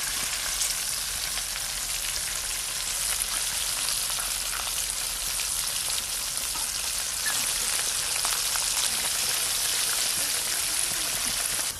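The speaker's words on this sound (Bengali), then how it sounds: "আর তেলটা কেমন বুজবুজ করছে।" Hot oil bubbling as food fries, a dense, continuous crackling hiss that stays even and loud throughout with no breaks.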